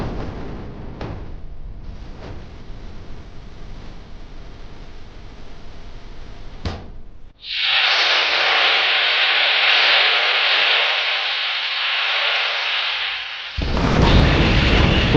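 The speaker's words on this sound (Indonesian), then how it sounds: "Dan lalu, ledakan dahsyat menggentarkan udara." A huge blast bursts out as a train locomotive explodes and burns after derailing, then a long loud roaring rush that holds steady for several seconds before another heavy surge of noise.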